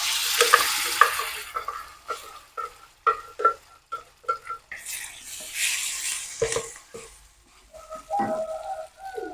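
Blended spice paste for a village-style fish soup hits hot oil alongside shallots, garlic, curry leaves and pandan, sizzling while a utensil scrapes and stirs in irregular bursts, close and clear with no talking.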